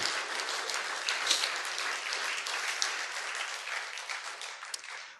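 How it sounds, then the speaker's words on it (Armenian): A church congregation breaks into warm, sustained applause, many hands clapping densely and evenly for several seconds before tapering off, with no talking over it. "եկեք ավելի ջերմ ու հզոր ծափահարություն տանք նրան"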